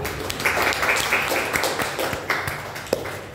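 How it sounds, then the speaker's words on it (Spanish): A classroom group claps for a classmate in a short burst of dense, moderately loud applause with no talking over it. "démosle un aplauso a su compañera"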